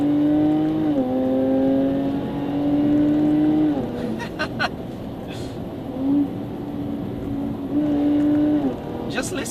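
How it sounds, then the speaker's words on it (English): A supercharged Jaguar F-Type R AWD engine drones steadily with a rising and falling supercharger whine, shifting pitch as it revs, with faint voices in the background. "here you can actually hear the lovely whine of the supercharger"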